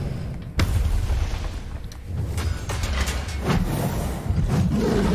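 Grenade blasts in the shooter game Gunfire Reborn, a run of booming explosions and mechanical clatter that come in quick waves, loud and close, with no talking.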